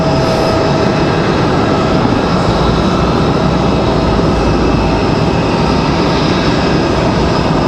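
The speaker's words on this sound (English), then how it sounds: "So the JetBlue A220 up the hill." A JetBlue Airbus A220 jet climbs up the hill at Raleigh-Durham airport, a loud, steady broadband engine roar that holds evenly throughout with no voices.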